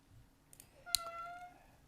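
A hungry house cat gives a single clear, rising meow close by, preceded by faint rustling and softer background noise, with no speech.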